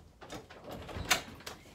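A household door is opened, giving a faint shuffling rattle, then a sharp click of the latch about midway through and a soft knock near the end, heard up close in a quiet room without speech.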